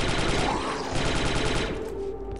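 Rapid automatic blaster fire from a Star Wars Republic Commando firefight rattles loud and dense through the whole stretch, shots overlapping in quick bursts with no voices over them.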